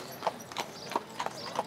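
Horse hooves clip-clop on a street in a quick, uneven series of sharp knocks at close range, with faint background murmur.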